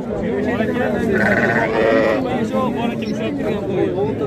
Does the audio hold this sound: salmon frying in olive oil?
no